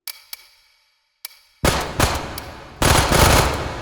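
Twin PP91 submachine guns fire in the virtual reality shooter H3VR: a few sharp isolated shots, then loud rapid automatic bursts close by.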